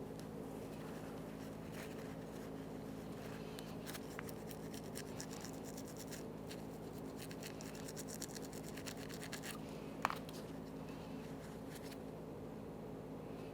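A Mazda 3 brake caliper slider pin is scrubbed clean, giving faint, steady brushing and scratching strokes over a low background hum, with one sharper knock near the end.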